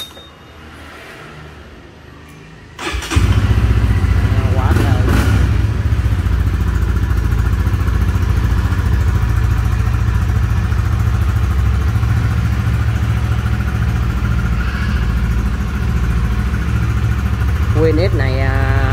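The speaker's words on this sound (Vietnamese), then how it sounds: "Lên máy cho anh em nghe luôn." A motorcycle engine kicks into life with a sharp start, then settles into a steady, loud, throbbing idle close by.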